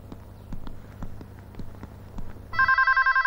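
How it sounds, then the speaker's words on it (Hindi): Faint rhythmic knocks give way to a loud electronic telephone ring, a fast repeating trill that starts abruptly near the end. "फोन की घंटी बजने लगी"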